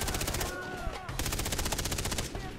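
Rapid gunfire in the video game Far Cry 3 during a sniper firefight, dense rattling bursts that break off briefly near the middle and then resume, loud and close with a faint electronic tone underneath.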